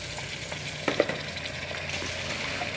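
Chicken feet drop into a hot pan for adobo and sizzle steadily, a close, continuous frying hiss with a few brief spits and clinks, with no voices over it.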